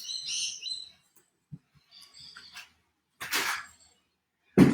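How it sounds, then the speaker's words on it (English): Birds chirp outdoors in short bursts of high twittering calls, fairly quiet and separated by gaps, with a couple of soft knocks and a louder thump near the end. "There's a lot of bird sound coming"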